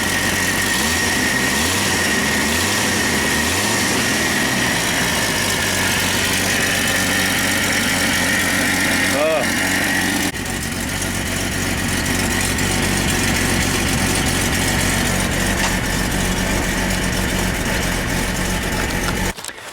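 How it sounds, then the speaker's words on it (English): A Jeep 4.0 engine with an exhaust leak idles steadily and loudly up close, with a rough, ticking, puffing exhaust note running throughout. "You can tell it's got a pretty good exhaust leak."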